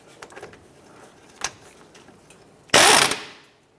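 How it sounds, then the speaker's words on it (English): Ratchet fitted with an 18mm deep socket loosening the tie rod end nut on a 2006-2013 Chevrolet Impala, heard as a few faint clicks and then one loud burst of rapid ratcheting near the end, with no talk. "Using an 18mm deep socket, we're going to go ahead and remove our nut from our tie rod end."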